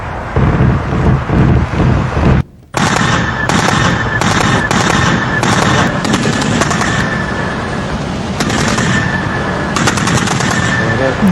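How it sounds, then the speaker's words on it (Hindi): Heavy two-sided gunfire during the Panjshir battle, with loud, continuous automatic bursts and overlapping shots, a brief near-silent gap, then sustained rattling fire with wind buffeting the microphone. "दोनों तरफ से फायरिंग, किसी जंग की ऐसी तस्वीर आपने नहीं देखी होगी किसी चैनल पर"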